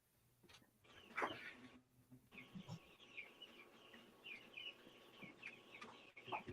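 A rooster crows repeatedly in the distance at night, with drawn-out, harsh calls and some clucking, against a faint background hum and no talking.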